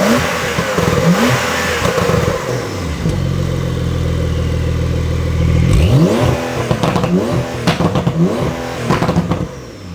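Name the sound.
Porsche 992 exhaust revving with Kies valve controller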